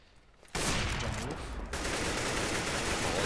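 Dense gunfire from a CS:GO esports match, mousesports versus LGB Esports on a de_ map, breaks out suddenly as a loud, sustained fusillade of rapid shots and keeps going to the end.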